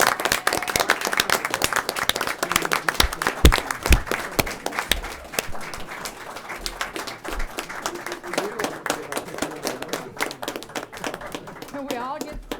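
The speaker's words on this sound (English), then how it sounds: "Can I interrupt for a clap?" Audience clapping at a town council meeting, a loose burst of hand claps from a modest crowd in a room, with talk running underneath and continuing as the applause thins.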